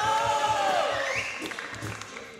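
Crowd at a Brazilian street rap battle, Batalha da Leste, cheering and making noise for the third round, a dense wash of loud voices and whistles that slowly fades, with no clear separate claps.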